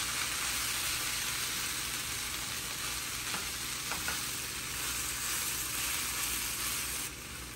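Long beans frying with shredded coconut in a pan, a dense steady sizzle throughout with a couple of faint stirring scrapes near the middle and a slight drop in level at the end.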